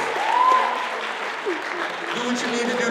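An audience at a poetry slam final screaming and clapping, a steady wash of applause with whoops and shouts rising over it throughout.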